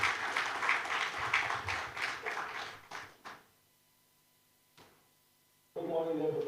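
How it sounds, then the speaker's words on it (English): Audience applause at a corporate clean-energy conference in Africa, welcoming the chairman, lasts about three seconds, then dies into near silence before a voice begins. "A round of applause for the chairman,"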